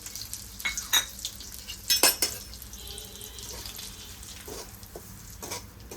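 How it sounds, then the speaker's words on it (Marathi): Fine semolina (rava) is dry roasted in a pan with ghee over low heat, giving soft scraping and stirring sounds with a few louder clatters near the start, fairly quiet overall. "एक वाटी बारीक रवा घेतला आहे ते आपण छान आता भाजून घेऊया"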